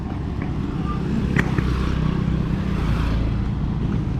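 A motorcycle engine runs outside a shop in rural Philippines, a steady low rumble holding at moderate loudness throughout.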